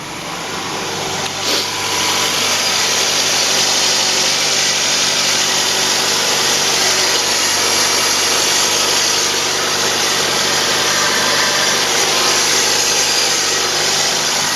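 A cold Ford Focus 1.6 Zetec engine idles slightly high, a steady close hum with a faint high whine, unbroken for the whole stretch with no talking.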